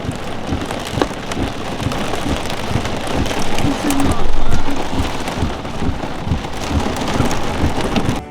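Heavy rain drumming hard on an RV roof in Kansas, a dense continuous patter with close, loud drops that swells and eases slightly, with no voices.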